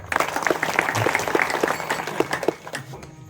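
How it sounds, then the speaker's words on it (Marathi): Audience at a Marathi kirtan breaking into steady applause, many hands clapping together in a dense, continuous patter that fades toward the end. "सर्वांनी यांच्यासाठी टाळ्या वाजवा"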